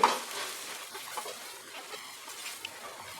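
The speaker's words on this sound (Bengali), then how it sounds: "আঁচটাকে কমিয়ে রেখে আমি মশলাটাকে একটু ফ্রাই করে নিচ্ছি।" Spices for paneer masala fry gently in a pan over low heat, giving a soft, continuous sizzle with light stirring scrapes and no talk.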